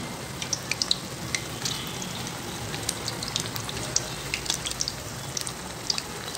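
Bread bajji frying in hot oil, a continuous bubbling sizzle peppered with sharp crackles and pops, close and moderately loud throughout with no voices.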